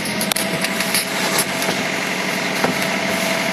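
A motorboat engine idles steadily as the boat pulls slowly out of a marina on a trip along the Elbe, a constant low hum with a few faint knocks and no talk.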